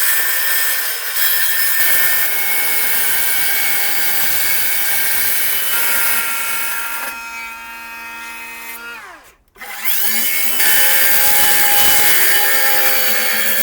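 Power saw cutting through a bucket with a loud, continuous buzzing whine that shifts pitch as the blade loads, drops out briefly, then resumes.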